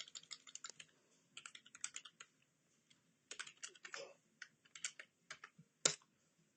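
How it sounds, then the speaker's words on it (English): Bursts of typing on a computer keyboard, quick clustered keystrokes in uneven runs with short pauses between, close and fairly quiet, one sharper clack near the end. "I'm just going to be typing away on another system."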